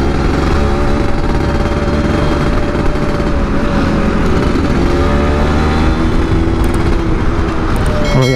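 A 2002 Yamaha F1ZR motorcycle ridden with its body panels removed, engine droning loud and steady with wind and road noise while the rider commutes to work, changing pitch only slightly throughout.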